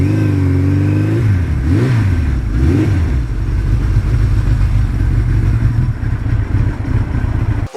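Suzuki GS1100E motorcycle engine heard while riding: a loud, close mid-pitched drone that rises and falls through a few quick revs, then settles into a steady cruising hum with wind rush, no voices.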